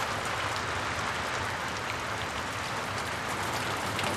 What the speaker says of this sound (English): Come on, let's get out of this rain.